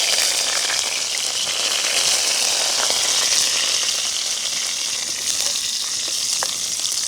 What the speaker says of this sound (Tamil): எண்ணெய் நல்லா சூடாகிட்டது நாங்கள் இதுக்கு வந்து கொஞ்சமாக கடுகு சேர்ப்போம் அதோட பார்த்திங்கன்னா கழுவி வச்சுருக்கிற கருவேப்பமிலையும் சேர்ப்போம்